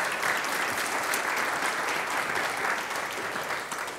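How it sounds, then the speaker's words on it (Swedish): An event audience gives steady, dense applause for Ted Valentin for about four seconds, tapering slightly at the end. "En applåd för Ted."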